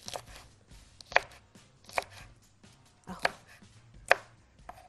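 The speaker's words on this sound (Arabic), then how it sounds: "عايزه انعم الفلفل شويه، فلفل قرن فلفل حار كده" A knife chops hot horn chili peppers on a cutting board: five sharp, close knocks spaced about a second apart, with quiet handling sounds between them.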